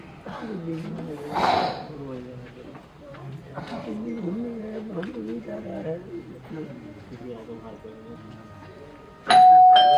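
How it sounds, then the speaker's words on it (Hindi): A doorbell chimes loudly and clearly near the end of a scene from a Bhojpuri stage drama, following several seconds of people talking over faint background music. "स्टाफ घंटी बजाता है"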